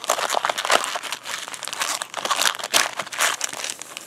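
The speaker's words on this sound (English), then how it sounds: "I'll mix these guys up too." Pokémon Collection Sun booster packs are shuffled together by hand, giving loud, continuous foil crinkling and rustling up close with brief pauses.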